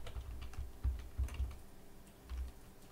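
Soft computer keyboard typing, a steady patter of muffled key clicks with a few heavier thumps, close and fairly quiet.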